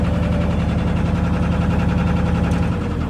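A boat engine runs with its revs raised to bring the alternator in, giving a steady, loud, rhythmic mechanical drone that holds close and even throughout with no voices.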